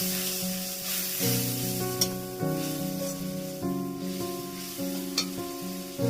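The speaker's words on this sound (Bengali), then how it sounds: "ধনে গুঁড়ো দিয়ে এবার আমি একটু জল ঢেলে দিলাম। মশলাটা কষা হবে।" Spice paste of coriander powder and water sizzles steadily in a hot pan during sautéing for a spicy boal fish curry, a continuous frying hiss under prominent background music.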